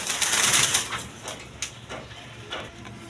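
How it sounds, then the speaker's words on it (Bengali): A pair of high-flying Giribaz pigeons in a loft give off faint, scattered wing flutters and soft rustling over a bright, airy background, with a few brief louder bursts. "এখানে আরেক পেয়ার হাই ফ্লাইং গিরিবাস কবুতর আছে"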